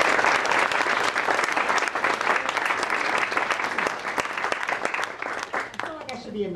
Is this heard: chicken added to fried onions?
no